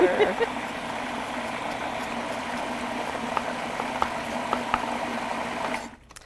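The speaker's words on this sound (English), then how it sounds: "starting with a little bit of onion sautéed in butter. This might be a little noisy." Onion sautéing in butter in a pan, a steady close sizzle and bubbling hiss with small pops, running continuously before cutting off abruptly at the end.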